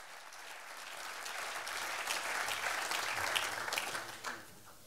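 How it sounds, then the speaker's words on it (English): A conference audience gives a steady, continuous round of applause for panel speakers that swells gently and then fades out near the end, heard from some distance. "this is your round of applause now"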